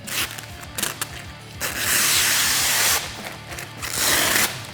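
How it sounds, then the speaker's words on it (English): Protective film is peeled away from a SuperATV flip windshield for a Honda Talon 1000, a fairly loud, crackling rip in long strokes broken by short gaps and faint handling clicks. "we're gonna go ahead and remove our protective film from both sides"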